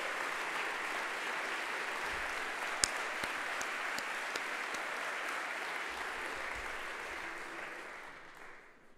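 An audience claps steadily and warmly at a USR political speech in Romania, a dense, sustained applause with a few sharper claps standing out, slowly fading toward the end.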